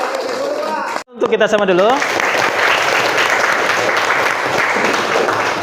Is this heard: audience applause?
yes